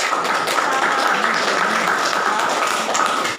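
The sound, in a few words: applause in a classroom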